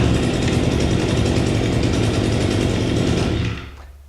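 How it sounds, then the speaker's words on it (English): Echo GT22GES string trimmer's small two-stroke engine running at high revs, a loud, close, buzzing drone that drops off sharply near the end as the throttle is released. "When the trimmer is warm, you don't require choke. You just switch it on and pull it."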